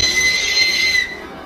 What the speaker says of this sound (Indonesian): Ini adalah suara dari peluit yang dibawa pria ini,